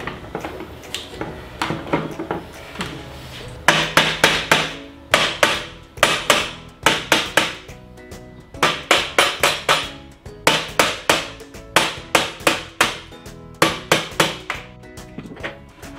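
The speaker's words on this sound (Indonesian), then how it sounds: "Jadi kalau rada susah kita perlu palu karet." A rubber mallet taps on the armature of a Mollar CM810 cut-off saw, delivering loud, close, repeated knocks in uneven bursts and quick runs with no talking.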